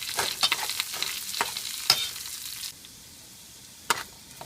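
Vegetables sauté in hot oil for a vegetable kurma, giving a busy sizzle broken by spoon scrapes and taps. The sizzle drops sharply partway through, then a single clear clack sounds near the end.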